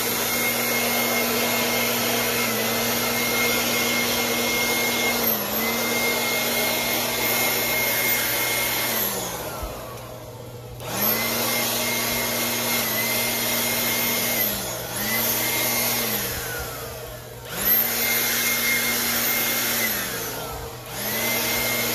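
An Avid Power 20V lithium battery cordless leaf blower runs close and loud with a steady whining motor, repeatedly easing off briefly and spinning back up, and no one speaking.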